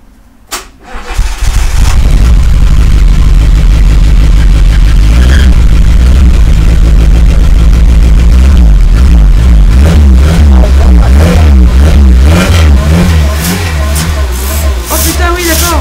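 Renault 4L engine cranks briefly, catches, and runs loud and close, then revs up and down in rising, wavering pulses for several seconds, with voices faintly mixed in.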